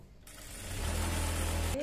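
An electric sewing machine stitching salwar fabric runs in a short burst, a low steady motor hum with a rapid mechanical whir that rises in and stops abruptly, heard alone.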